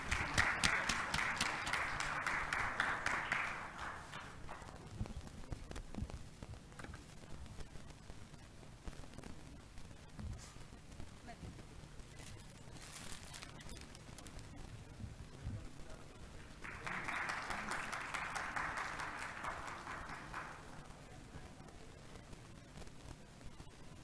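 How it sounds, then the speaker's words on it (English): Audience applause at a conference session, a broad hiss of clapping that swells at the start, fades to a low murmur, then rises again in a second burst near the end. "Guys, let's applaud for Rishabh."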